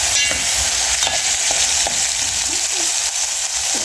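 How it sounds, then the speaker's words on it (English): Onions fry loudly in a pan for Kenyan pilau, a dense continuous sizzle broken by repeated scraping stirs, close up and with no voice over it. "So we are frying our onion."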